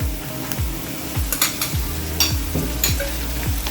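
Ginger garlic paste fries with chicken gizzard and liver in a pan, a steady sizzle broken by repeated rhythmic scrapes and clinks of a spatula stirring, close up with no talking.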